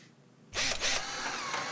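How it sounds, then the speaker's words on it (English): Power drill boring screw holes into timber for attaching rockers to a balance board: after a quiet start, two loud close whirring bursts, then a steady mechanical drone that holds to the end. "Mark the two drill holes for the screws to attach the rockers to the board."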